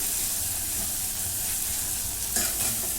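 Soft-cooked cowpeas are mashed with a spoon in a pan of cooking vegetable, giving a steady close scraping and bubbling texture with a brief knock near the end; no one speaks.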